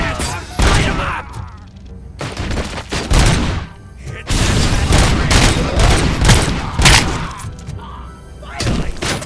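Loud bursts of rapid gunfire from the video game RoboCop: Rogue City come in several long volleys with heavy thuds and impacts and short pauses between them.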